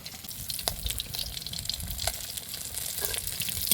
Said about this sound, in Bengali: ঝাল তরকারির জন্য পারফেক্ট করে আমুদি মাছগুলো ভেজে নিয়েছি